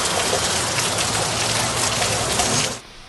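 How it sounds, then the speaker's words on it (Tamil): Heavy rain pours down around Villupuram in Tamil Nadu, a loud, dense, steady hiss of drops that fills the air and then cuts off abruptly near the end. "விழுப்புரம் மற்றும் சுற்றுவட்டார பகுதிகளில் அரை மணி நேரத்திற்கு மேலாக கனமழை பெய்தது"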